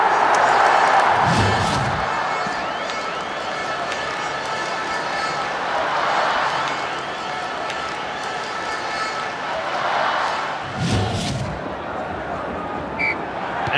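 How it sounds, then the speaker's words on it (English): A stadium crowd cheers in the football video game Dream League Soccer 2017 after a goal, a steady broadband roar with swelling surges, running under continuous commentary. "And the crowd are well behind their team now they've got their goal."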